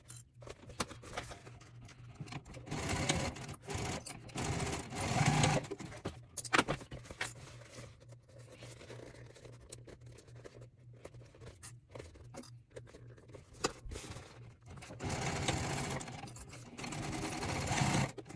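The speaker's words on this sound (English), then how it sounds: "And then clip and stitch across." A sewing machine stitches across the bottom seam of a reusable fabric Christmas gift bag, its motor humming steadily and up close, with brief pauses and slow stretches between runs.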